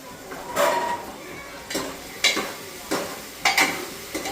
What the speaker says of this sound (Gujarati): હવે હલાવો એને